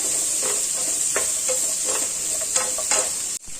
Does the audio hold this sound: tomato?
yes